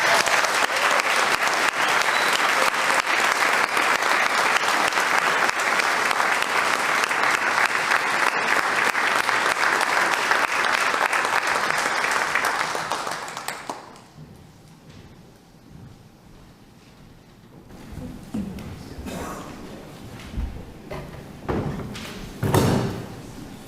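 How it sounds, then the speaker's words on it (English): A church congregation at a Sunday morning service gives a long, loud round of applause, a dense wash of clapping that holds steady for about thirteen seconds before fading into quieter room sounds. "Another round of applause."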